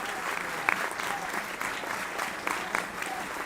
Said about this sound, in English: Receives a big round of applause.